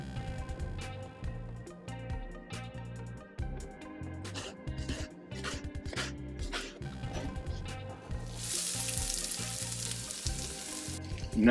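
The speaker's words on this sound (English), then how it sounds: "we keep stirring the onion with the garlic until it turns a little bit golden" Chopped onion and garlic fry in olive oil for a seafood paella, with a steady sizzle running under louder rhythmic music and an intense hiss near the end.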